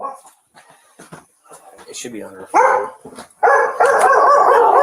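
Dogs in kennels bark and howl during a police search of a house, sharp barks and a rising sustained howl breaking through as a person speaks nearby.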